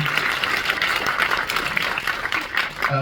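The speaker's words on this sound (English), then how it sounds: "Round of applause for Ted, everyone." Audience applause at a live Q&A event in a cinema, with dense, steady clapping that holds at a fairly even level for about three seconds.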